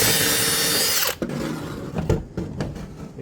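Power drill boring a hole through a metal bracket into a fascia for an insulated roof receiver channel, a loud steady whine for about a second that abruptly stops, followed by a few close clunks and knocks of handling.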